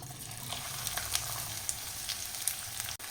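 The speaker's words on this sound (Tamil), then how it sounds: "வெங்காயம் லைட்டாக வதக்கி எடுத்துக்கலாம்" Chopped onion and dried red chillies sauté in a pan, giving a steady, moderate sizzle with faint scattered crackles and light stirring, close and continuous with no voices.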